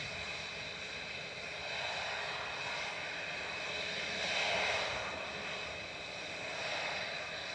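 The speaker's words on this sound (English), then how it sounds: "There goes Aegean, lifting off to a much warmer Athens" Aegean airliner lifting off from Manchester Airport, a steady broadband engine roar that swells to a peak mid-way and holds strong throughout, with no voices.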